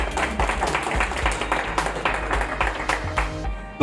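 An audience at a talk on communication and listening skills breaks into applause, a crowd of irregular, overlapping hand claps with a rippling rhythm, loud and close, ending abruptly.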